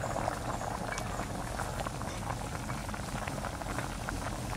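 Mutton korma simmering in a pot as saffron-soaked water goes in, a close, dense bubbling burble that stays steady throughout with no voices.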